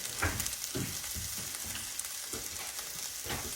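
Sausages fry in a pan at home, a close, quiet sizzle broken by repeated soft scraping and stirring strokes about every half second, with no talk.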